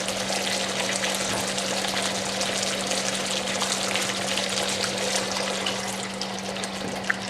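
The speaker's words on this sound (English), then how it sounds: "I'll just add another little taste of water." Water is added to a pan of red Thai chicken curry cooking over medium-high heat, a steady close hiss and bubbling of liquid with a constant hum beneath, continuing evenly with no speech.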